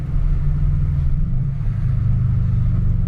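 Subaru WRX engine and exhaust at light throttle, a steady loud low rumbling drone with a throbbing exhaust note holding constant throughout, close and continuous.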